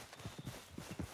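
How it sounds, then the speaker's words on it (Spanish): Hooves of a Tennessee Walker horse clip-clop in Red Dead Redemption II, a quick run of paired, muffled thuds in an uneven walking rhythm, close and moderately loud. "He escuchado un caballo único por ahí."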